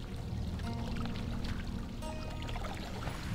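A waterfall in World of Warcraft Classic: Wrath of the Lich King pours in a steady, continuous rush of water, with faint chiming game tones flickering on top.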